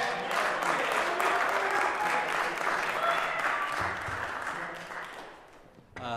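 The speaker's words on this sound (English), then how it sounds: "Can we put a round of applause?" Applause at a bass degree recital, a full house clapping steadily and fairly loud for most of the stretch, then tapering off before a brief final burst.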